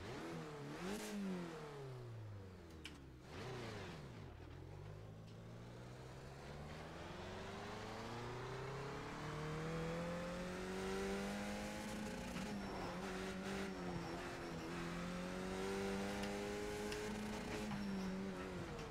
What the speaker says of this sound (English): Have they changed the sound of this car?